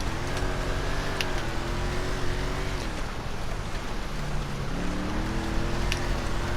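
A Declasse Mamba classic car drives and drifts through snow in GTA Online, its engine droning steadily close by, the pitch rising and falling as the revs change, under a constant noisy wash and no talk.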